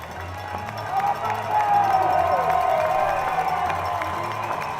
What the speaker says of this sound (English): So Aiden Moody gets a round of applause from the faithful